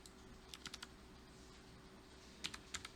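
A few crisp keystrokes on a computer keyboard, pressing the Y key in a Python notebook: sharp close clicks in small clusters, spaced apart over a faint steady hum, no talk.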